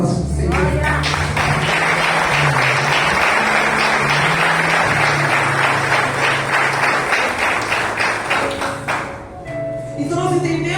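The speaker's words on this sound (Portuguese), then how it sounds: "Glória de palmas para o Senhor." A church congregation claps together in fast, dense applause that fills most of the stretch, loud and close, fading briefly near the end before a few more claps.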